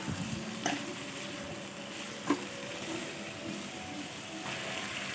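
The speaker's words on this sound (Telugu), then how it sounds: "ఇలా వేసుకున్న తర్వాత మనము ఒకసారి బాగా కలిపేసుకోవాలి" Choula kaya (cluster beans) frying in a pan for curry while being stirred, a continuous soft sizzle with occasional spoon scrapes and clinks, close and steady without speech.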